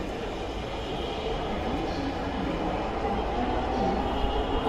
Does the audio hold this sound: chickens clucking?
no